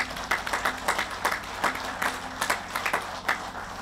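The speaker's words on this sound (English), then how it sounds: "Have a nice round of applause, ladies and gentlemen." An audience applauds at a groundbreaking ceremony for West Virginia Route 10, a steady patter of many hands clapping close by, with a few sharper claps standing out and no talk.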